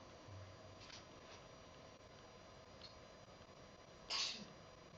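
A single short sneeze bursts out near the end against a quiet lecture room hum, with nothing else around it.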